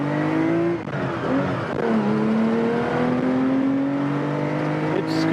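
A 1979 Porsche 911 SC accelerates while driving, its engine note climbing through the gears in loud, steady rising sweeps from inside or close by, with a brief dip at a shift.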